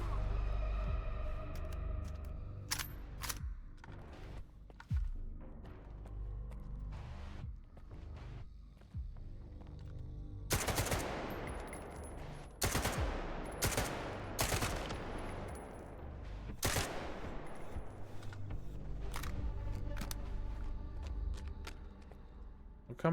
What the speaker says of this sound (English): Oh my god, this gun keeps jamming.